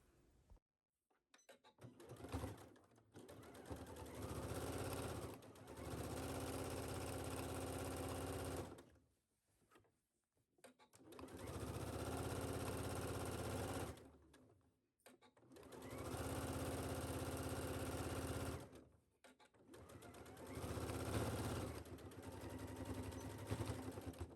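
A sewing machine stitches a wrap skirt seam at a 5/8 inch seam allowance in several long, loud, steady bursts separated by brief pauses, with no talking.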